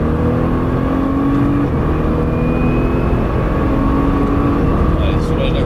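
Nissan GTR engine on the Albi race circuit, a steady loud drone with tonal whine and faint revving changes, continuous throughout with a voice talking over it.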